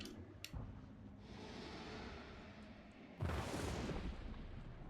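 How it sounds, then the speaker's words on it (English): Thunder from a lightning strike in Hunt: Showdown, a sudden loud rumbling crack that follows a quieter stretch of ambient noise and stays heavy to the end. "That lightning startled me for a second."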